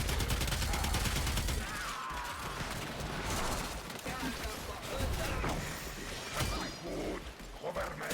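Continuous dense blasts from the Twin Kohmak shotguns in the Warframe video game, a loud rapid barrage with mechanical clatter and crashing effects, with occasional talk from a player over the top.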